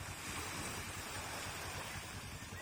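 Sea waves wash onto the shore of Barangay Gatasan at high tide, a faint, continuous surf rush mixed with wind noise, with no one speaking.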